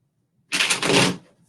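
Playing cards shuffled once, a short crisp riffling burst of under a second that stands alone in otherwise quiet surroundings.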